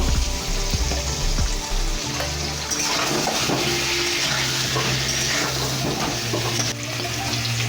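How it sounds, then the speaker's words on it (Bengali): Potatoes, two large and one small, sizzle in a pan of oil with salt and a little turmeric, a continuous close crackle and hiss with occasional clinks and stirring sounds. "সামান্য হলুদ দিয়ে আলুটা ভেজে নেব"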